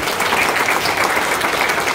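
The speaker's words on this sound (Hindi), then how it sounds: "आप जोरदार तालियां लगाइए।" Dense, loud audience applause at a book launch event, a continuous close wash of many hands clapping without talk.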